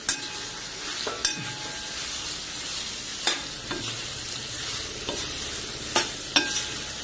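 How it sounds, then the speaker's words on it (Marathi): Chopped ridge gourd sizzling steadily in a hot pan with homemade garam masala, stirred with a spatula that gives several sharp scrapes and clatters against the metal over the continuous frying hiss. "मस्त फ्राय करून घ्यायचं, असं चांगलं हलवून घ्यायचं याला।"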